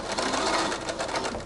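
A sewing machine stitching the outer edges of a fabric mermaid tail, running as a steady, fast, close mechanical whir with a rapid needle rhythm throughout.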